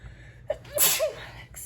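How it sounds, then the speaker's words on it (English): A single close sneeze with a sharp intake of breath before it, in an otherwise quiet room. "Excuse me, I have the sneezes today."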